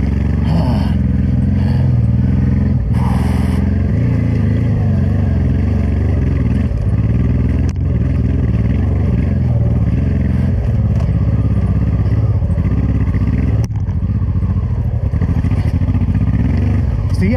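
A 26-year-old Honda motorcycle labouring up a mountain trail in Portugal or Spain, its engine droning loud and close without pause, with occasional clattering knocks over the rough ground.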